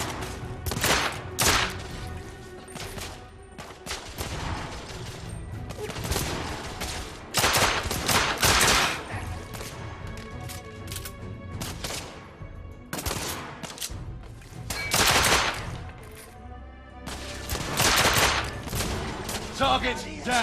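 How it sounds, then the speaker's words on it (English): Bursts of rapid gunfire and fusillades in the video game The Order: 1886, loud and close, coming in repeated volleys with short pauses between them. "They're shooting at me!"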